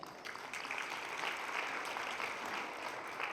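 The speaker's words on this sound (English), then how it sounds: "so that deserves a round of applause" Sustained applause from a community forum audience, dense and steady throughout with no voices standing out.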